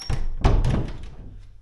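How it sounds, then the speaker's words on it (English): Chapel door being locked, heard as a couple of heavy wooden thunks and a dull knock close by, fading out afterward with no talk. "I just realised I need to go and lock the door"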